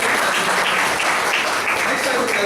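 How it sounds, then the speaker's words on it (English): Loud, dense applause from an audience at an evaluation session, sustained evenly throughout with no break. "Give them a big round of applause."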